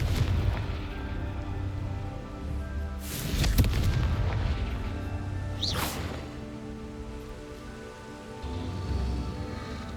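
Confringo blasting spell explosions in the Hogwarts Legacy video game: two loud, booming bursts a couple of seconds apart, each with a crackling tail, over a steady rumbling game ambience with no talking.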